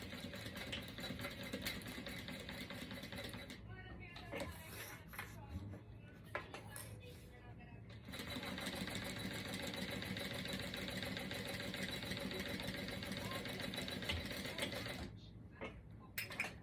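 A sewing machine runs in long, steady bursts while stitching a small zipper pouch, with short pauses full of fabric handling and clatter between runs.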